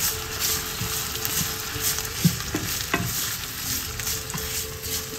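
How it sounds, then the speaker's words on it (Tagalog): Mung beans sauté in a pan for monggo guisado, a steady close sizzle with irregular stirring scrapes and a couple of sharper knocks. "Ginigisa ko po muna yung munggo para mas malasa"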